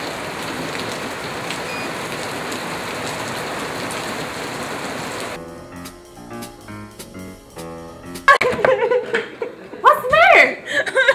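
Steady, dense rain falls loudly for about five seconds. Then it gives way to quieter sounds and laughter.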